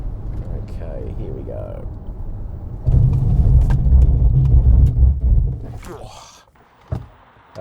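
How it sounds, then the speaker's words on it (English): A Ford Mustang Mach-E brakes hard from 100 km/h, a deep rising road and tyre rumble that swells then fades to near quiet, with someone talking briefly before it and a gasp afterward. "Do a stop from 100 k's an hour."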